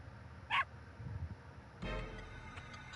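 A dog's bark from the video game The Legend of Dragoon, a single short, sharp yip standing out briefly over a low, quiet game background with a faint hum.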